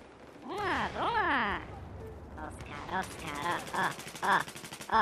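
Gunfire in the video game Battlefield 4, rapid bursts of shots in the second half, mixed with speech in the first half and under voices throughout.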